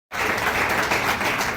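Sudden loud applause from a ceremony audience starts abruptly after a moment of silence and carries on as a dense, steady wash of clapping in praise of God.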